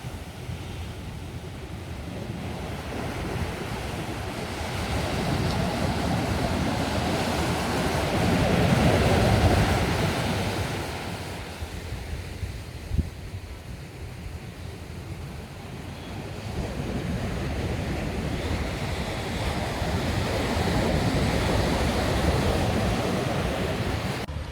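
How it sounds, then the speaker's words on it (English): Waves crash steadily on a rocky beach in the Funkia community at Goderich, Western Sierra Leone, a loud continuous roar of surf mixed with wind buffeting the microphone, swelling and easing over time with no voices. "as you guys are hearing the waves crashing right there"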